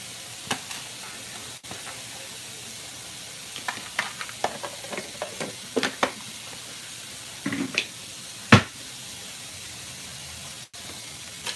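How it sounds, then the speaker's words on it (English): Saved fish grease heats in a fish pan, giving a steady soft hiss with scattered small crackles and pops, close and fairly quiet, no talking. "now I'm gonna let my grease heat up"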